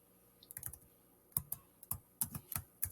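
Numbers are typed on a computer keyboard in short bursts of crisp, close clicks and key taps with brief pauses between groups, alone in a quiet room.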